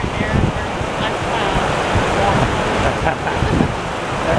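A river flowing steadily near Kaukauna, Wisconsin in late November, a continuous broad rushing wash of water heard close and fairly loud, with brief speech-like bursts over the constant roar.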